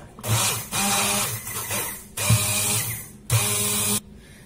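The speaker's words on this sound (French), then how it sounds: "Et je vais venir mixer tout ce mélange." A blender whirs through a minced meat mixture seasoned with salt and pepper for a Tunisian potato gratin tajine, running in three short, loud motor bursts separated by brief pauses.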